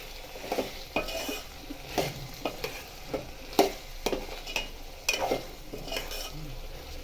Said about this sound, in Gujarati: દહીં એડ કર્યા પછી થોડું હલાવી દઈએ.